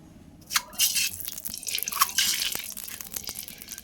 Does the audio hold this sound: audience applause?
no